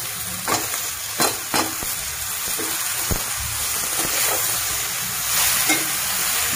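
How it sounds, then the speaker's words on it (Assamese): Cut ridge gourd fries in hot oil with turmeric, a loud continuous sizzle and hiss broken by several sharp stirring clacks and scrapes. "এয়া মই কাটি লোৱা ভোলখিনি ইয়াত দি দিছোঁ।"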